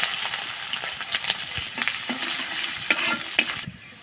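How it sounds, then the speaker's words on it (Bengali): Onion and garlic fry in hot oil as a tempering for a dish of khesari and pea greens, giving a close, constant sizzle with stirring scrapes and clinks until it quietens at the end. "তেলটা গরম হয়ে গেছে, এবার দিয়ে দিব পেঁয়াজ আর রসুন।"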